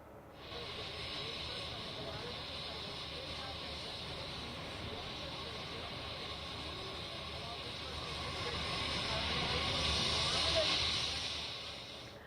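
An IndiGo airplane lands on the runway at Jewar Airport, producing a steady, broad roaring hiss that holds throughout and swells louder near the end before easing off.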